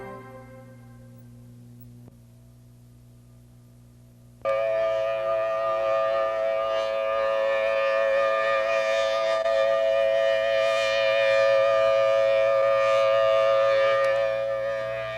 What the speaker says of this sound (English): When you hear a tornado siren, get to your basement as quickly and safely as possible.